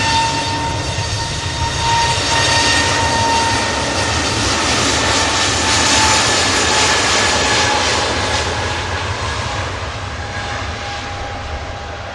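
A Scandinavian airliner rolls and climbs away on takeoff, its loud sustained jet roar steady and near with a high whine riding on top throughout.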